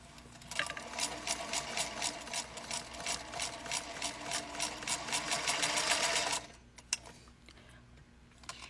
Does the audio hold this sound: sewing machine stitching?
yes